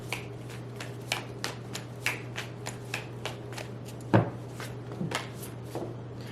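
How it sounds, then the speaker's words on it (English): Tarot cards being shuffled and drawn, a rapid run of crisp riffling clicks at a steady pace, close up, with one louder slap partway through and no voices. "Pull 5 cards for your person."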